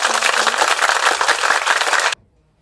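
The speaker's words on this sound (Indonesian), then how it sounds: "Oke, sekarang kita berikan tepuk tangan." Classroom full of students applauding a correct answer, a dense, loud burst of many hands clapping together for about two seconds before stopping abruptly into near silence.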